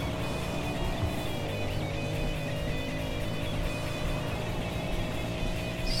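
Car racing in a video game against a purple Mazda MX-5, a steady, loud engine drone with sustained tonal whine and slight pitch shifts, no voice heard.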